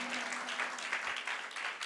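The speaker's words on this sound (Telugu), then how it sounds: "గట్టిగా చప్పట్లు కొట్టండి" A church congregation at a Sunday service claps together in a dense, continuous burst of applause, heard briefly and at a moderate distance.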